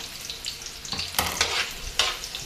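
Onion fries in a pan as a spatula stirs it, a steady sizzle punctuated by a few louder scraping sweeps, close and without speech.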